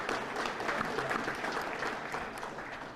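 Steady, full audience applause in a hall at a political announcement event, a dense even roar of many hands clapping for three seconds with no speech on top.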